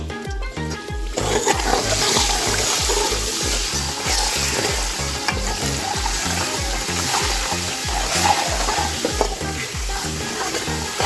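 Cream of wheat or sultanas frying in ghee in a pan for Diwali parsad, with a steady loud sizzle and a regular scraping, stirring rhythm running throughout.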